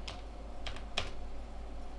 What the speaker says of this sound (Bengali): আমরা কমান্ড লাইনে বক্স লিখব।